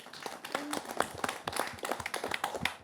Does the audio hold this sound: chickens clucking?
no